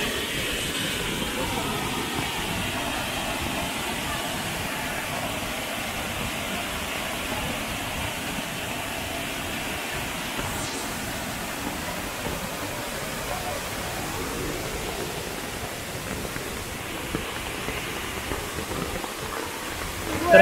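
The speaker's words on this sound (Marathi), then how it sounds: "जोरदार पावसानंतरचा अप्रतिम असा धबधबा बघतोय आपण" The Sawadav waterfall in a Konkan village roars with swollen, muddy water after heavy rain, a steady, dense rushing wash that holds unbroken and loud throughout.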